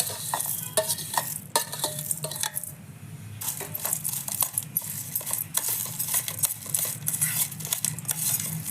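A utensil stirs papad chutney with red chili powder and crushed papad, giving busy, close metallic scraping and clinking that runs continuously with only a short quieter gap, and no voices.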